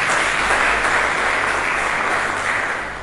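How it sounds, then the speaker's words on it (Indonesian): Loud, full applause from a church congregation fills the space, a thick unbroken roar of clapping hands that holds steady and eases slightly toward the end, with no one speaking. "Mari kita berikan tepuk tangan yang meriah"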